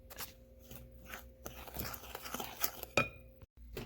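Dry flour and baking soda being stirred in a bowl, with close clinks and scrapes of a utensil against the bowl in an irregular rhythm and a sharper knock near the end.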